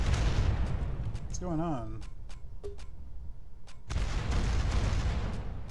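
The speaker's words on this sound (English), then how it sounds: "What are they shooting at?" Artillery and gunfire in the strategy game Rise of Nations: rumbling booms and scattered sharp shots pound on, pausing midway while a voice speaks, then resuming loud and dense.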